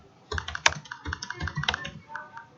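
Brisk typing on a computer keyboard while entering HTML tags, a close, steady patter of key strikes with one sharper clack near the start, no voices.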